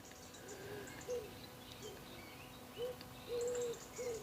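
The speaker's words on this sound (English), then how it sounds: "Oh, now the cuckoo started." A cuckoo calls by a quiet lake, its soft, repeated hollow notes sounding distant and intermittent over a faint hiss of background air and insects.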